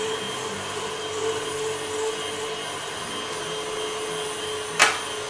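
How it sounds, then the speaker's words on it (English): An electric meat grinder grinds pork for Polish fresh sausage, a steady close motor drone with a constant hum throughout and one brief sharp clack near the end. "Now I'm gonna put it through the grinder and then we will get the stuffing."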